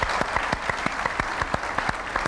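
A studio audience claps steadily, the individual hand claps sharp and distinct in a brief burst with no voices over it.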